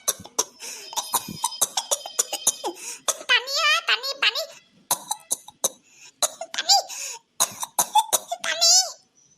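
A cartoon character coughs hard and repeatedly offscreen, a voice-acted string of harsh, rasping coughs in quick bursts with brief pauses, close and fairly loud, with childlike vocal sounds mixed in.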